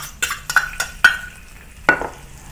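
Garlic, ginger and spring onion sautéed in rendered pork fat, heard as a low sizzle beneath a handful of sharp metallic clinks and scrapes from a utensil against the wok.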